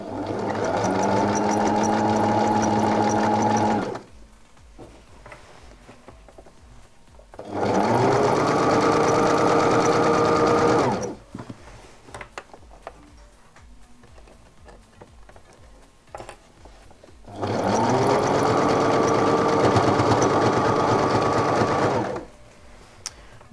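A sewing machine stitches a skirt pocket seam in three loud, steady bursts of about four seconds each, separated by quiet pauses.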